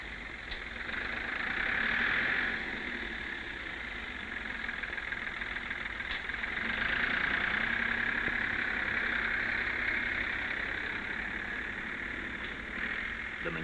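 A 1960s Ford Major 4000 tractor engine runs steadily at a moderate, droning pitch, swelling slightly twice with no voices over it.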